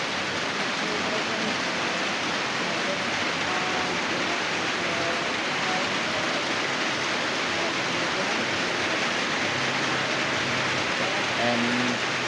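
Rain falls on a hot afternoon as a steady, moderate hiss that holds for the whole stretch, with faint murmuring voices and brief tonal sounds drifting in underneath.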